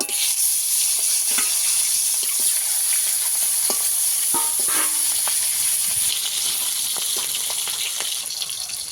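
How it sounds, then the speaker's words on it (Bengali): Bhetki fish pieces fry in oil, a dense, bright, continuous sizzle with occasional crackles and soft utensil touches, close and steady throughout. "বাকি মাছগুলো এইভাবে ভেজে নেব"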